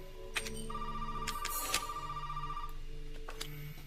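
An in-game telephone rings in Resident Evil 7, a thin electronic ringing tone repeating steadily over a low game ambience, with a few sharp clicks and thumps from play around it.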